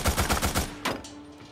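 Rapid gunfire in the video game Days Gone, with snipers shooting from a rooftop: a quick string of about six close, punchy shots, then one more sharp crack that fades into a ringing tail.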